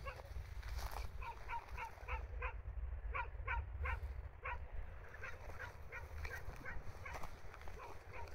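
Dogs barking outdoors on a frozen winter hike up a hill, a scattered series of short, distant yips and barks over a constant low rumble of wind.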